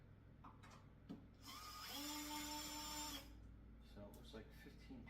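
A Bosch power drill whines for about a second while driving screws on a commercial-grade stair stepper machine, amid a steady low hum and someone talking before and after.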